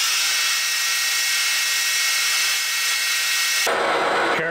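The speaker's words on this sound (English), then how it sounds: "I'm gonna try to hand sand it out with these little Scotch-Brite roll lock wheels" Steady high-pitched whirring of a lathe as a rusty groove on a Mustang engine pulley is hand sanded with small Scotch-Brite roll lock wheels, a continuous abrasive hiss that shifts and drops in tone near the end.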